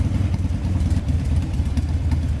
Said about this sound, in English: Moped. Nice scooter.